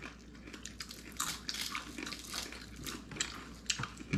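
Close, crisp crunching and biting of fried fish bones, with irregular crackly bites and soft wet chewing in a quiet setting and no talk.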